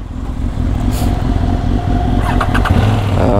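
A motorcycle engine starting and running outdoors, a loud, close, steady rumble with a few brief revs and light clatter throughout.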